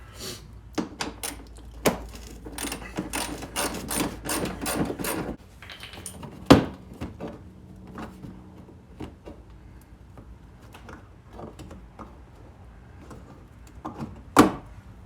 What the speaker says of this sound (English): I turned it and it was still stuck, so then I just pried out a little bit with your plastic tool